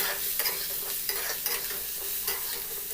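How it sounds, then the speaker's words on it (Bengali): Potato and pumpkin frying in a pan for a Bengali pui shak curry, stirred with a metal spatula: repeated scraping strokes over a continuous soft sizzle, close and moderately loud. "খুন্তি দিয়ে ভালোভাবে একটু নেড়ে নিচ্ছি।"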